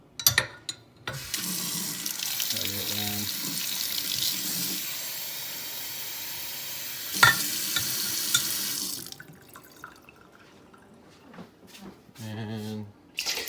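Warm water runs from a tap into a bowl in a kitchen, making a steady rushing flow for several seconds that then stops, while a person speaks briefly around it.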